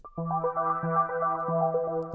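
A bright synth lead plays a rapid, repeating arpeggiated pattern of stepped notes over a sustained low tone, clean and solo.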